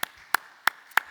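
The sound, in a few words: church congregation clapping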